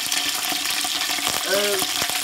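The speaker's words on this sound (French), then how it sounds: "Alors pour les têtes, pareil, on les fait griller des deux côtés." Heads grilling in hot oil in a pan give a continuous close sizzle with crackling spatters, and a short voiced sound rises briefly over the frying.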